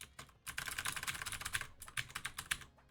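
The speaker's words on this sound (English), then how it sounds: "It's literally me clicking on my keyboard." A computer keyboard clicks away in rapid, continuous typing bursts, close and moderately quiet, with brief pauses and no talking.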